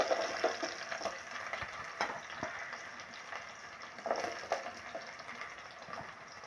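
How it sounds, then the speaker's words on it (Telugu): Mustard seeds and thinly sliced onions fry in hot oil, giving a steady close sizzle with scattered pops and crackles throughout and no voices. "ఆయిల్ అయితే ఇలా వేడెక్కినాక కొంచెం అయితే ఆవాలు వేసుకున్నాము సన్నగా తరుక్కున్న ఆనియన్స్"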